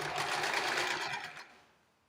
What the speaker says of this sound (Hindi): हाफ इंच छोड़ के हम सिलाई लगा देंगे।